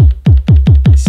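Noisier synthesized kick from an Elektron Digitone, five or six rapid booming hits with gritty noisy attacks and sweeping low tails, loud and close, with a hiss of noise near the end.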